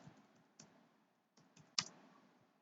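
Sparse keystrokes on a computer keyboard, a few soft taps and one sharper click, close and quiet with short gaps between them and no talking.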